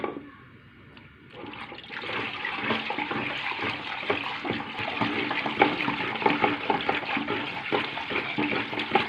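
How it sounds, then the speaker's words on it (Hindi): NP9 liquid poured little by little into a phenyl concentrate mixture, a steady splashing and trickling stream after a brief quiet start, close and continuous with no talking. "देखें थोड़ा थोड़ा करके हम NP9 डाल रहे हैं और इसी तरह आपने इसको डालना है।"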